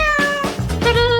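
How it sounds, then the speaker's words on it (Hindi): A pet cat gives a quick run of close, loud meows, three or four short mewing calls in about a second. "इस बार तुम्हारा पुरस्कार एक प्यारी बिल्ली है।"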